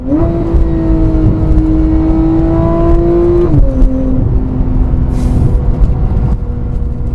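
A 2015 Porsche 911 GT3 (991.1) engine holds a high, steady drone, then drops pitch as it shifts, running loud and continuous from inside the car.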